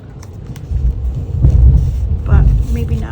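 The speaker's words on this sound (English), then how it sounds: "Holy mackerel, can you guys hear that thunder?" Deep rolling rumble of thunder builds and swells twice, loud and sustained, with a low roar filling the background.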